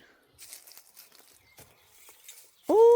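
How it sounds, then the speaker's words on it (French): A hen rummages and scratches about in a garden vegetable plot, making faint, scattered rustles and patters in short bursts. A sudden loud, voiced sound breaks in at the very end. "Oh, mais non, c'est pas le voisin qui travaille, c'est Coucou qui fouille."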